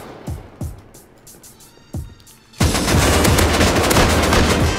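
Gunfire in an online raid video game: a few separate sharp shots, then a sustained loud burst of rapid automatic fire filling the second half.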